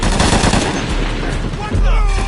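Rapid, loud gunfire from the video game Shadow of the Tomb Raider, bursts of automatic shots rattling close and continuous with brief booms, a voice faintly mixed in.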